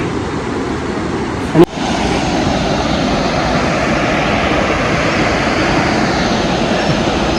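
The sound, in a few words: waterfall rushing water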